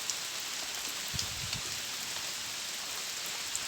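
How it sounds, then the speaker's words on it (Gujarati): Heavy rain falls in a steady, even patter with water running along the ground, a close, constant wash broken by a few low thumps around the middle; nobody talks. "ફૂલ વરસાદ થયા જવો પાણી હાલતા થઈ ગયા"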